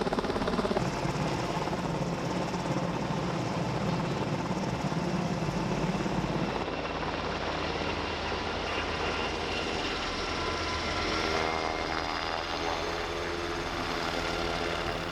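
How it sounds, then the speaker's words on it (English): A Black Hawk helicopter hovers overhead during a tree removal job, its rotor and engine roar loud and continuous with heavy downdraft, thumping steadily throughout. "We're talking big helicopter with a lot of downdraft"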